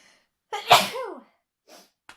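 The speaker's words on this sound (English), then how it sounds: "I'm going to sneeze, sorry." A single loud, close sneeze with a sharp burst, followed by a couple of brief faint sounds and then quiet.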